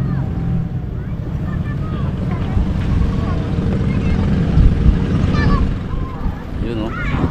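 A large motorized fishing boat passes on open water near the Philippine coast, its engine a steady low rumble that swells slightly and then eases, blended with wind buffeting and lapping water while people talk nearby.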